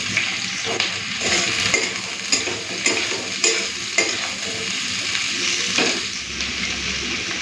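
Chopped onion, potato and bitter gourd sizzle in hot mustard oil, with a steady frying hiss broken by regular scraping strokes of a spatula stirring the pan up close.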